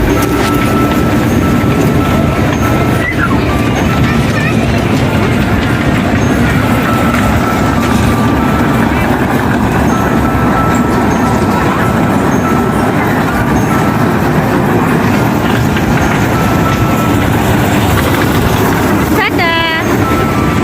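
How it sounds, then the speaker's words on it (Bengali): A Swadesh train runs past with a loud, steady rumble and rattling wheel noise for the whole stretch. People talk over the din, and a few brief metallic squeals come near the end. "এই তো স্বদেশ ট্রেন চালু"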